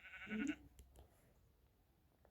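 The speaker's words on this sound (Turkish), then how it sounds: "Gerçekten keçi var." A single short, nasal goat bleat rings out near the start, followed by near silence with a few faint clicks.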